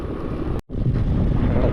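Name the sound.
cold wind blowing while riding a mountain road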